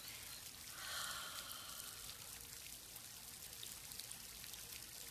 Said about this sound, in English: So let this water, let this fountain relax you.